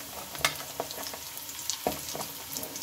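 Carrot pieces fry with a close, steady sizzle while a spatula stirs them around the pan, giving a few sharp scraping knocks over the hiss.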